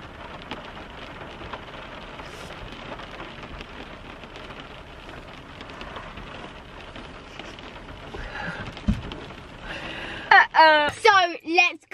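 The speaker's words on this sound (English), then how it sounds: "I'm not even sure we can get out of the car though, because it's raining quite heavily." Heavy rain drumming steadily on a car parked at the beach, heard from inside as a dense continuous wash, with voices talking over it near the end.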